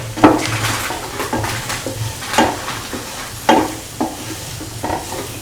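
Spices and salt stirred through a frying pan, a utensil scraping and clinking against the pan in repeated strokes over a steady low sizzle, close and fairly loud with no talking.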